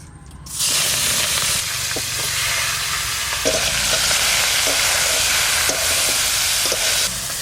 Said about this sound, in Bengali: দিদি মাছ ভাজা বসিয়েছে